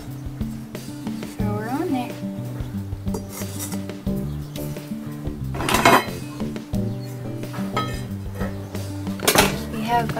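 A dry metal pot is set down for traditional Nepali cooking, with repeated clanks and clinks of pots and utensils over a steady tonal hum, while people talk nearby.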